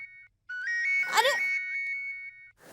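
A mobile phone ringtone plays a bright, repeating electronic melody. It pauses briefly, and a voice speaks over the middle stretch of ringing.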